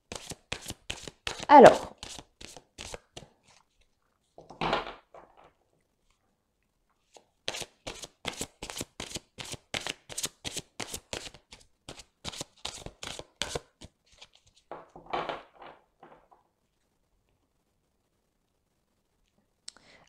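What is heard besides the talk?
shuffling and drawing Belline oracle cards for a reading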